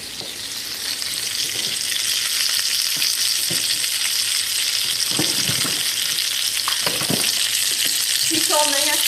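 Hamburger steak fries in a hot pan with a loud, constant sizzle and a few scrapes and clinks of utensils, near and busy, with no voices.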